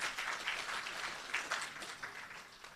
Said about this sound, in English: Can you give him a clap?